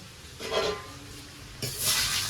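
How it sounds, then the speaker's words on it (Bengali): Salted pieces of elephant foot yam fry in hot oil until reddish. Two close bursts of sizzling and stirring rise over a quiet background. "লাল লাল করে ভেজে এখন তুলে নেব"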